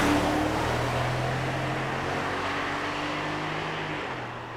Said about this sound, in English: even here at whatever we're at 50 miles an hour, there is a little extra noise from these tires